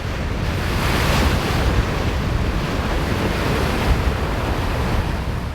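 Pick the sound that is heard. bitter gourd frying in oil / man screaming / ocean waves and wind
ocean waves and wind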